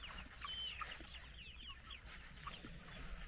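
Soft clucking and murmuring from several chickens resting nearby in the summer midday heat, scattered and relaxed, over a low steady background hum.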